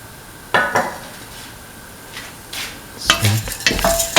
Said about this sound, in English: now put in the rice flakes